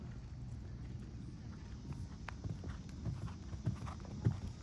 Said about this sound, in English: number 45, Jeremiah, who owns and rides the New Zealand thoroughbred Johnny Royale.